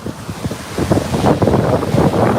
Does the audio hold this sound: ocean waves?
yes